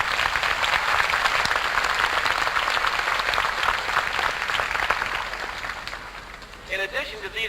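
A crowd in a hall applauds at a 1987 junior high graduation, loud sustained clapping that gradually thins out before a voice begins speaking near the end.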